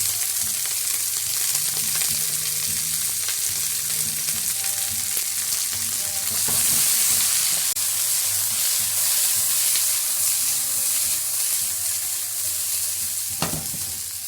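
Onions and bell peppers sizzle loudly in a hot frying pan, a steady crackling hiss that continues throughout with occasional sharper pops and stirring.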